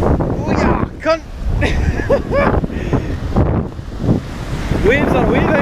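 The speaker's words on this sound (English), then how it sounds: "Waves are waving!" Cold North Atlantic sea surf washes onto a Scottish shore with strong wind buffeting the microphone, while people shout and talk excitedly over the rushing water.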